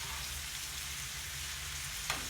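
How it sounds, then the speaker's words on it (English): Steady sizzling of cabbage and vegetables frying in a hot pan, a continuous crackling hiss with one brief clatter near the end. "I'm sure you hear the sizzle."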